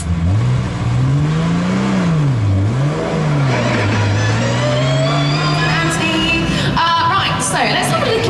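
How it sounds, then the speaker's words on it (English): McLaren 675LT engine fired up and driven away at a live show, a loud rising and falling rev with shifting engine tones and brief throttle blips, voices mixed in underneath. "let's fire it back up and drive back"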